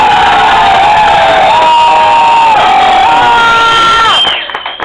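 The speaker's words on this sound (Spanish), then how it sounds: "Aplausos por la vampireza." A crowd at a Halloween costume show in Duitama, Boyacá, cheers for a costume, with sustained high-pitched shrieks and whoops, many of them children's, holding loud and steady before trailing off at the end.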